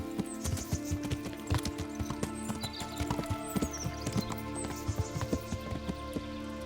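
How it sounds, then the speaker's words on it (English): Horse hooves clip-clopping in the medieval role-playing game Kingdom Come: Deliverance, a steady irregular patter of hoof strikes at moderate distance over a soft outdoor ambience, no talking. "I accidentally call my horse when I'm trying to crouch"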